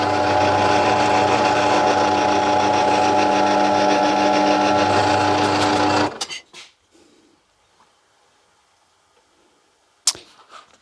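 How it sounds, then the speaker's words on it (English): A drill press bores into a wooden trophy base with a loud, steady whine for about six seconds, then winds down and stops, leaving near silence broken by one sharp knock. "So the drill goes in probably about 15mm"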